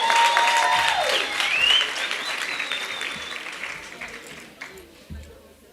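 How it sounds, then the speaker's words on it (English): Audience applause at a college certificate ceremony, sustained clapping from a large crowd that fades gradually toward the end, with a few faint tonal sounds above it. "you must give yourself a very good round of applause for your performance"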